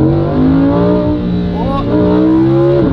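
A car drives along with a steady, droning engine hum that rises slightly in pitch near the end, with voices talking over it inside the car throughout.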